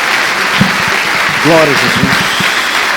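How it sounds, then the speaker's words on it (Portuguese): Church congregation applauding praise to Jesus, a steady broadband patter of many hands running through the whole stretch while a preacher's raised voice speaks over it. "Dá uma salva de palmas a Jesus"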